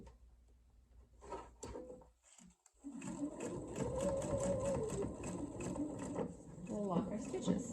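A sewing machine stitches fabric for a jar lid opener, a quick rhythmic mechanical whirr starting after a few handling knocks and running steadily, close up.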